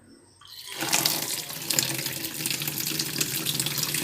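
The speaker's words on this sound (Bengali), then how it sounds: "এবার এগুলো একটু ধুয়ে নেবো ভালো করে" Running kitchen tap water rinsing shiuli leaves, starting after a brief quiet moment and then pouring steadily with a broad splashing rush and small spatters as the leaves are washed.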